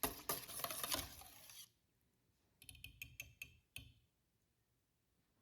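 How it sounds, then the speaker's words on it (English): A whisk beats homemade yogurt made from whole milk, a rapid wet patter at first, then after a pause a series of lighter clinking taps in a quiet room. "So I'm just whisking it here."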